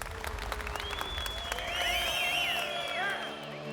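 A storybook show audience after a lion and horse act, applauding and cheering loudly, with dense clapping throughout and rising whistles and whoops in the middle, no speech over it.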